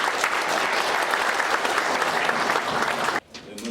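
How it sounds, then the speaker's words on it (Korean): An audience at a political party forum in a hall gives loud, sustained applause that fills the space, then drops off abruptly near the end before a little clapping returns. "여러분 큰 박수로 맞아주시기 바랍니다"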